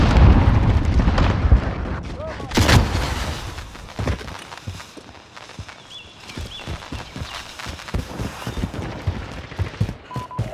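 Grenade explosions in Modern Warfare Team Deathmatch on the Aniyah Palace map: a loud booming blast rolls out early, then a second sharp burst, followed by scattered gunfire and rumbling game noise with voices in the mix.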